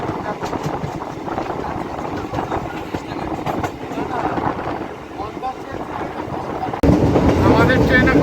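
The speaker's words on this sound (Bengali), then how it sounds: "আমাদের ট্রেন এখন বিঘ্না স্টেশন ছেড়ে এগোচ্ছে।" MEMU passenger train rolling along the railway after leaving a station toward Bankura, a continuous rumble with rhythmic wheel clatter and wind buffeting, growing louder near the end.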